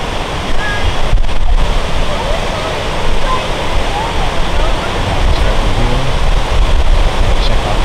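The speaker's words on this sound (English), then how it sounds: "Check out the waterfall." Loud, continuous roar of Thunderbird Falls in Alaska heard up close outdoors, a steady broadband rush with gusts of wind noise on the microphone and people talking over it.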